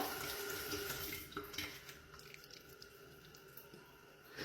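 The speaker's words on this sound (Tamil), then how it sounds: "சரி, இதை இப்போ கழுவுவோம்." Running tap water rinses lather off skin during a face wash, a steady broad hiss with soft splashes and wet rubbing, close and moderately loud with no talking.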